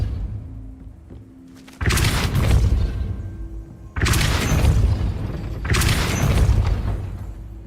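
A Depulso spell cast in the Hogwarts Legacy video game, heard as three loud, booming blasts spaced about two seconds apart, each with a sharp onset and a rumbling, noisy tail that lingers before the next.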